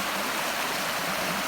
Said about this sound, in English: Water running down off the hills